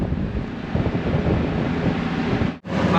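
Steady, broad wind buffeting the microphone, a loud continuous roar with a brief dropout near the end.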